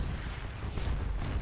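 Artillery bombards a fort in the Napoleonic battle game Scourge of War Waterloo, heard as a steady, dense rumble of blended cannon booms with no single sharp shot standing out.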